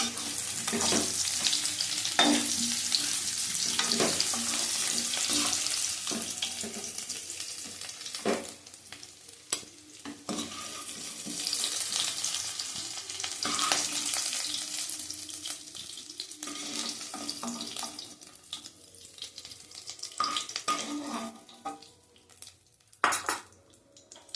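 Potatoes for aloo dum frying steadily in hot oil, a continuous sizzle with occasional stirring scrapes and utensil clinks, close and fairly loud throughout with no talking.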